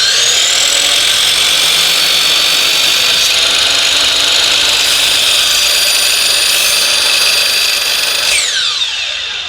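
A power saw cuts through base molding at a round corner bead, a loud continuous high whine held steady for several seconds before the blade winds down and trails off at the end, up close and without speech.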